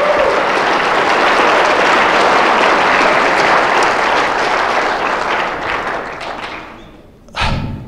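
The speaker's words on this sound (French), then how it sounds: "Est-ce qu'on peut juste un petit peu applaudir le Seigneur?" A church congregation bursts into sustained, loud applause that fills the space for several seconds. The clapping thins and fades near the end, and a sharp thump lands just before the clip closes.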